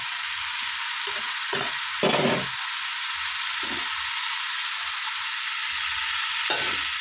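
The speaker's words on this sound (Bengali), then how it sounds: "এবারে জল দিয়ে দেবো আমি, আস্তে আস্তে হোক, সেটা হলেই আবার রান্না হয়ে যাবে।" Tomato, turmeric and chilli masala cooking in a pan as water is added, giving a steady loud hiss and sizzle with a few short bursts of bubbling and spoon scraping.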